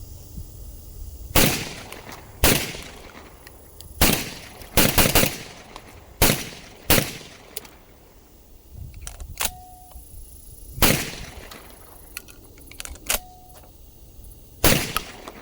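Beretta 1301 Tactical semi-automatic shotgun fired repeatedly outdoors, sharp loud blasts spaced a second or two apart, some in quick doubles, with a few faint electronic beeps between shots.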